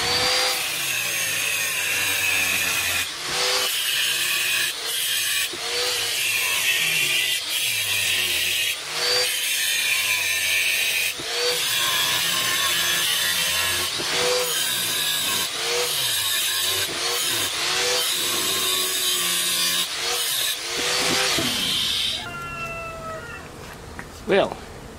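A power saw cuts around a metal part near a ball joint, whining loudly in repeated strokes with brief pauses between passes, the pitch bending under load, then falling away near the end.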